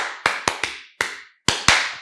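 A single person gives a short round of hand claps: six or seven crisp, separate slaps at an uneven pace with brief gaps, close and fairly loud, with no talk.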